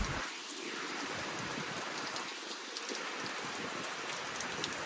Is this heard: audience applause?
no